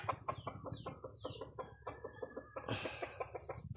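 A labuyo wild junglefowl clucks in rapid, close, repeated bursts. Higher calls sit over low background noise.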